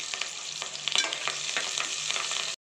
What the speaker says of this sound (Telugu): పచ్చిమిర్చి వేగాక ఆనియన్స్ వేసుకుందాం. కరివేపాకు వేసుకుందాం.